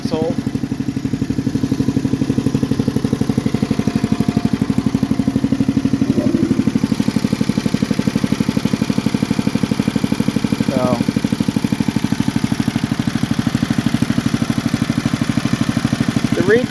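A 1964 Hahn Snow Giant snow blower's small engine runs steadily near the microphone with a rapid, even clattering putter and no break for the whole stretch.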